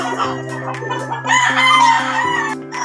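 A gamefowl rooster crows loudly and close by at a game farm, a long harmonic call lasting a few seconds with other fowl sounds mixed in.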